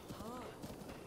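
A horse in Breath of the Wild, a video game, gives brief clip-clop hoofbeats with a faint whinny, quiet and short, while someone talks over it.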